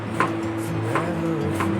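Knife chopping onion outdoors, three spaced, soft cuts on a board over a steady background hum of music.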